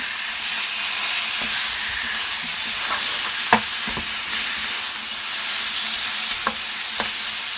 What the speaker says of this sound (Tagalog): So, paghalo-haloin natin siya.